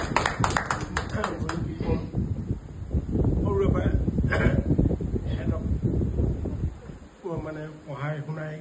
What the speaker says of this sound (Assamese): এটা তালি হ'ব লাগে দেউতাৰ কাৰণে